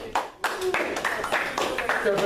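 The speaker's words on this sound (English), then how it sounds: "Clapping is in order." Delegates at a mock debate clap together after a resolution passes, a ragged burst of hand claps mixed with lively chatter and voices in a room, moderately close.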